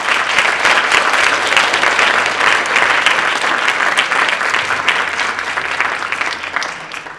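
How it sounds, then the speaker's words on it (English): An audience gives a sustained round of applause after a talk on human trafficking, thick, even clapping that stays loud throughout and tapers slightly at the close. "Can we just have a huge another round of applause?"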